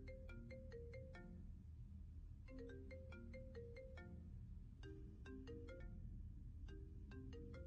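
A telephone rings in the Indonesian horror video game DOKUZ: a faint electronic ringtone of quick rising-and-falling tone bursts, repeating in four regular cycles over a low background hum.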